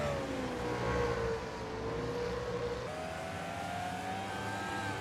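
Race car on the final lap at Anderson Speedway during a WRLA Hoosier Summer Tour race, its engine a steady sustained drone with a rising whine, continuous and fairly loud throughout with no talk.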